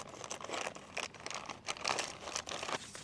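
Plastic packaging around a Tesla Model S roof rack being cut open with scissors, giving a steady close crinkling and crunching of wrap with no talk.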